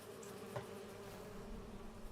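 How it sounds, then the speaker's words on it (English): Bees buzz in the farming video game Farming Simulator 25, a faint, steady insect drone that holds evenly for about two seconds with no talking. "Watch out for the bees."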